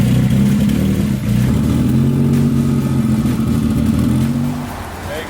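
A car engine fired up and revving hard, a loud close-up roar with fluctuating pitch holding steady for several seconds before easing off slightly at the end, with no talk over it.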